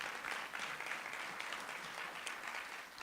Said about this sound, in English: Let's give our local award winners another round of applause.